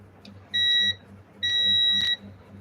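A multimeter set to buzzer mode, testing relay pins, gives two sharp continuity beeps, the second longer, loud and close with a faint hum between.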